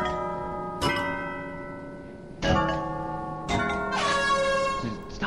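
Loud strikes of a bell ringing in a video game, three heavy clangs spaced about a second or more apart, each with a long ringing decay that overlaps the next.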